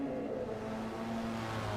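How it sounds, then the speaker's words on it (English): Throaty Nissan race car engine at Suzuka circuit, a low steady drone with a rough, rumbling edge, fairly faint and distant throughout. "Definitely a unique sound coming from that Nissan. Very throaty"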